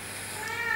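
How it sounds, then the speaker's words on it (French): A cat meows in the background indoors, a brief, drawn-out tonal cry that rises slightly and stays moderately loud and fairly close, with no talking over it. "Désolée pour le chat qui miaule derrière."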